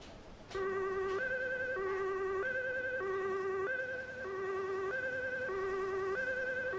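An ambulance siren in the video game Emergency 4 wails continuously in a steady two-tone hi-lo pattern, loud and close, with no talk over it.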